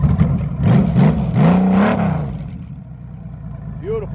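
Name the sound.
motorcycle with 6-cylinder Goldwing engine rumbling, six exhausts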